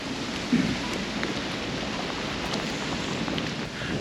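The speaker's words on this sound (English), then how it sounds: "Starting to rain." Rain falling on a sailboat, a steady broadband hiss of drops pattering around the deck, constant and fairly close, with no speech over it.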